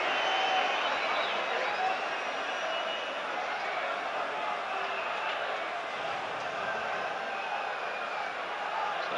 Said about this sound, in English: and that brings some applause from Andy Gorham.